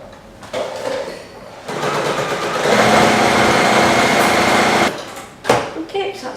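A sewing machine runs steadily, stitching cushion fabric close to an ironed edge. The motor hum rises into a sustained whirring burst for a few seconds, then stops, and brief handling noises follow.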